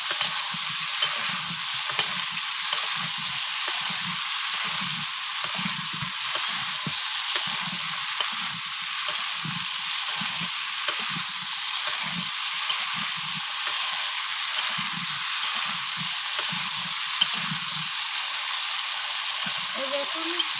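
Potatoes frying with Malabar spinach stems in a pan give a steady, loud sizzle throughout, with repeated low scraping thumps from stirring.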